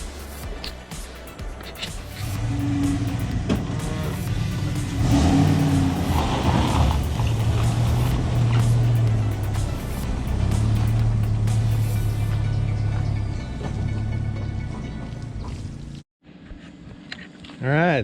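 A pickup truck drives up to a river bank to retrieve a mini jet boat at the end of summer. Its engine drones steadily and loudly up close, with pitch shifts as it moves, then cuts out abruptly near the end.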